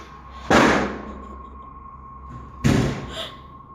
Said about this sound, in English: he turns to find the door from the other room has slammed shut again